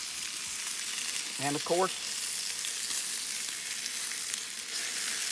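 Steak and potatoes fry outdoors with a constant broad sizzle, and someone speaks briefly over it partway through.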